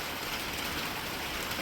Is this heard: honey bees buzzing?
no